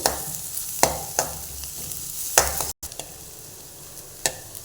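Sliced onions with salt sautéing in a pan for a rice dish, a steady low sizzle broken by several sharp scraping stirs of a spatula, close and alone with no talk.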